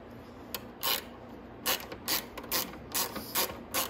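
A ratchet tightens a 10mm bolt on the side fairing of a Venom X20 125cc motorcycle, giving about eight short bursts of clicking at an uneven pace, close and fairly loud with no talk.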